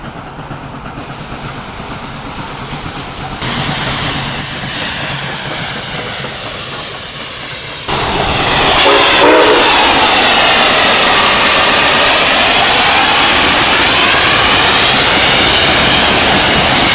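Nickel Plate Road 765 steam locomotive passing a picnic area along Riverview Road south of Peninsula, Ohio, approaching with a rising rumble that grows suddenly louder and stays heavy and close as the train rolls by.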